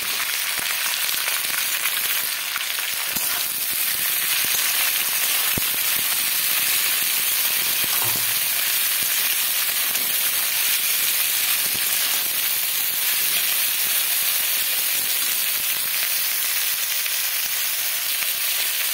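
Broccoli and cauliflower fry in a hot pan for vegetable chowmein, producing a continuous loud, hissing sizzle for the whole stretch with scattered faint clicks of stirring and no voices.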